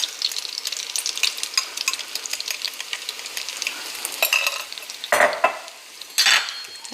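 Egg foo young mixture dropped into hot cooking oil, sizzling and crackling steadily up close, with a couple of louder metallic scrapes and clatters of a spatula or pan near the end.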